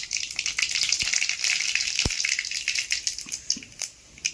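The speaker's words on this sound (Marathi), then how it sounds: "जिरे टाकून घेतले तेलामध्ये." Cumin seeds sizzle and crackle steadily in hot oil in a home kitchen, a bright continuous frying hiss broken by a few sharp pops and a spoon clink near the end.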